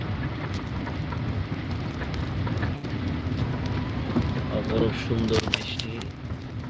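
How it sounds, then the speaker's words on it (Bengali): Heavy rain pours down steadily across the city of Hail, a dense, constant wash of falling water with a voice talking over it throughout. "অনেক বৃষ্টি হচ্ছে অনেক অনেক অনেক"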